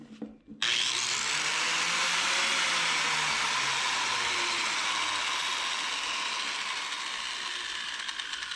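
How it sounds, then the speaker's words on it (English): An angle grinder powered through a repaired extension cord spins up abruptly after a brief clunk, then runs as a loud, steady high whine that slowly winds down in pitch and level toward the end. "using the repaired extension cord, I'm going to try out the grinder"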